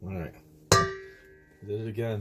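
A single sharp clang of a metal mixing bowl rings out and decays slowly, between bits of nearby talking.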